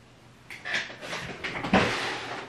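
A drawer or cupboard is opened while searching for an e.l.f. Putty Primer, giving a few close, loud wooden knocks and a sliding scrape in a quiet room.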